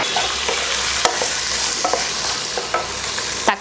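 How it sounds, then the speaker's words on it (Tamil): Half a kilo of chicken hits browned onions in a pan for chicken kuzhambu, a loud steady sizzle broken by scraping stir strokes and clicks of the spoon against the pot. "இதில் 1/2 கிலோ சிக்கன் இப்போ இதில் சேர்த்துடலாம்."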